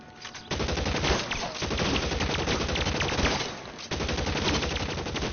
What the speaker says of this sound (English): a minigun.